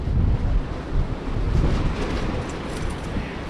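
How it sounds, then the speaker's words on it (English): Strong wind buffets a microphone on a fishing pier at night, a loud, steady low rumble with gusty swells and no voices. "It's pretty windy right now."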